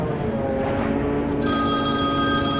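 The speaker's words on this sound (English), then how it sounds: "There's the phone." A telephone rings loudly indoors on a farm, its bright, steady electronic ringing tone starting partway through over a constant background hum.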